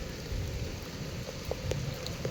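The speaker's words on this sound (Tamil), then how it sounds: "வெயிலும் பாருங்களேன் எப்படி அடிச்சிட்டு இருக்குன்னு நல்ல செம்மையாக வெயில் அடிக்குது அதே சமயத்தில் மழையும் பெஞ்சிட்டு இருக்குது" Rain falls while the sun shines, a steady hiss of drops on surfaces with a few sharper individual patters, fairly close, with no voices.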